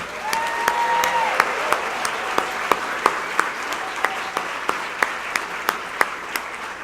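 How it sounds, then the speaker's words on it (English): Audience applause for finalists at a healthcare awards ceremony, a steady wash of clapping with distinct louder individual claps popping out at a regular pace, and a brief whistle or cheer near the start. "Please join me in giving all of our finalists a rousing, rowdy cheer of appreciation."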